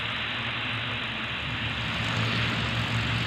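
A Bristol Blenheim bomber roars on takeoff with a loud, continuous propeller engine drone and no talk over it.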